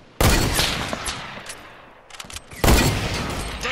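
Gunfire in Fortnite, two loud sharp bursts of rapid shots separated by a quieter stretch of scattered pops.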